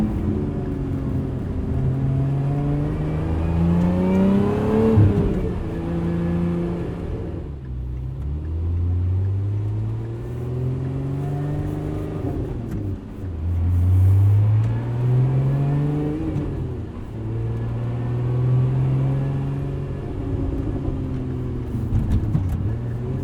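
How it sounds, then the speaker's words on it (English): The engine of a 2024 Lotus Emira with a six-speed manual gearbox revs up and down in repeated rising and falling sweeps, loud and close from inside the cabin. "the engine does rev up pretty quickly when you're rev matching or heel towing"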